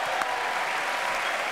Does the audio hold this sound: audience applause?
yes